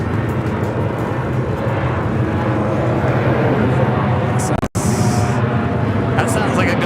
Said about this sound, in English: That sounds like a go-around. China Cargo Airlines Flight 221 coming in from Shanghai, 777 freighter going around.